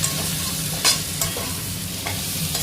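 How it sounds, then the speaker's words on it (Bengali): Potato and pointed gourd stir-frying in a pan with tomato paste, a constant hiss of sizzling oil with occasional scraping stirs of the spatula, close and continuous with no voice. "কষানোর পরে আলু পটলটা আবার একটু কষিয়ে নেব।"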